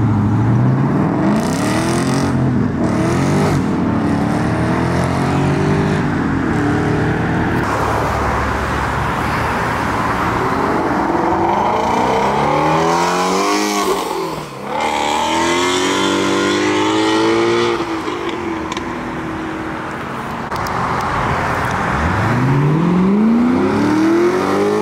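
Built muscle cars such as the Ford Boss 302 at a cars-and-coffee meet make loud, continuous engine roar with repeated revving and rising accelerations as vehicles pass close by, one after another, with no talk.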